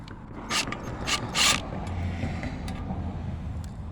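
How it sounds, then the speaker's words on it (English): A wrench ratchets a nut off a 224cc small engine block on a workbench, a few sharp metallic clicks near the start over a steady mechanical hum, with no talk. "First thing we'll do is we'll take that nut off of there."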